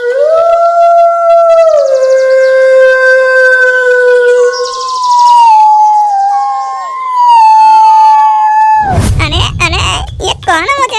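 A parrot in a story mimics a vixen's call with long, wavering, siren-like howling tones that glide and bend for about nine seconds, then give way to a burst of noisy, chattering squawks.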